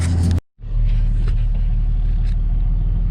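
A car engine rumbles steadily and close as the vehicle pulls into a house driveway on a snowy day, after a brief cut to silence near the start, with no one talking.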